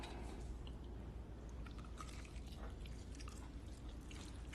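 Someone chewing crunchy food that is soft in the middle; wet, crackling mouth sounds and small bites repeat close up over a low background hum, with no voices.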